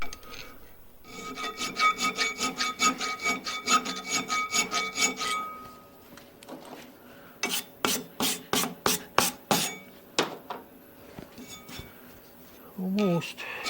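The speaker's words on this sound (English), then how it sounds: "Now I'll finish that off with a file, and I'll have nice little slots for my transmission mount." Metal file rasping back and forth to cut slots for a transmission mount, a fast run of rhythmic close strokes followed by slower, louder individual strokes, with a voice briefly at the end.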